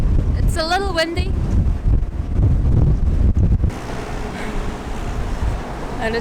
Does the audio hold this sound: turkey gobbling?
no